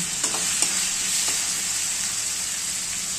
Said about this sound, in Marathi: हे गाजर पण याच्यामध्ये चांगलं फ्राय होऊन द्यायचं